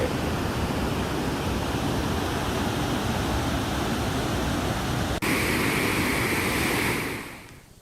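Water released from dam gates on the swollen Narmada river surges with a loud, continuous, broadband roar. Near the end it changes abruptly, then fades away, with no voices over it.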